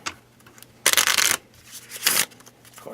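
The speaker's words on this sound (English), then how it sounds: "They shuffle fairly well if that's what you end up doing with them." Two quick bursts of Magic trading cards riffle-shuffled on good flexible card stock, each a crisp, fluttering rattle lasting about half a second, close and clear with quiet pauses between.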